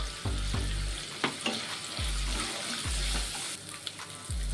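Shrimp and onion fry in a pan with a loud steady sizzle and crackle, and the spatula scrapes and thumps in a repeated rhythm with no talk over it.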